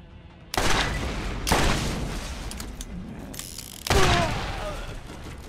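Gunfire and blasts in the video game Borderlands: loud, dense bursts of firing and booming explosions. Three strong onsets rise in quick succession, each decaying into a roaring wash.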